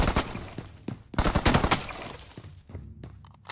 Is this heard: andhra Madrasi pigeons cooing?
no